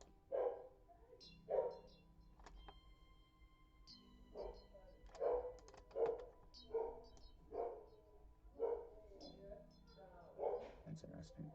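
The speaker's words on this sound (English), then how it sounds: "my mom's dog is barking at somebody" A household dog barks at someone: about ten barks come in an irregular run, each muffled and fairly distant, while a person talks over them.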